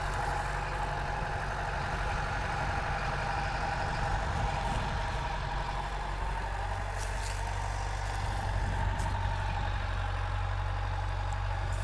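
A tractor engine runs steadily at around 1500–1700 rpm while driving a DTZ FN 1.60 mulcher through untilled ground, a continuous low mechanical drone with a constant hum and slight fluctuations, fairly close and with no talk.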